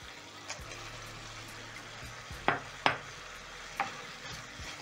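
Sugar stirred into a simmering tomato sauce for omena, soft bubbling and faint sizzling broken by a few sharp spoon scrapes and clacks against the pot, quiet and without talk.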